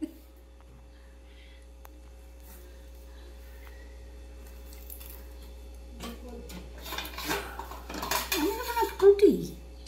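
A bowl and spoon clink and rattle during serving, quiet at first and then a burst of close, uneven clinks and scrapes near the end, with indistinct voices in the background.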